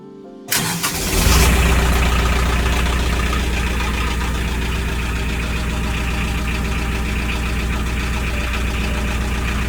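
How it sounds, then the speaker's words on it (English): An engine in an engine room cranks and catches, then settles into a loud, steady, close running drone that continues unbroken. "Let's give the engine a little run."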